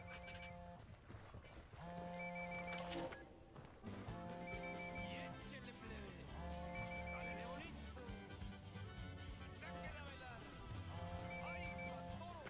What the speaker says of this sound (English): Phone. That's no IED. It's ringing too much.